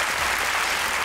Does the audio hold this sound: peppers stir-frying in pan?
no